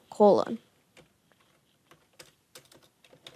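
A brief voice sound at the start, then soft, scattered clicks of typing on a computer keyboard, quiet and irregular.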